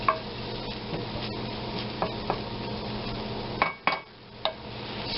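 A spoon stirs chicken breasts poaching in butter in a pot, with soft scrapes and occasional knocks against the metal under a low, steady simmer.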